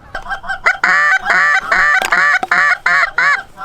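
A low-flying flock of eight geese honks loudly during a late-season Wisconsin goose hunt, harsh repeated calls in rhythmic bursts, close overhead and alone without talk.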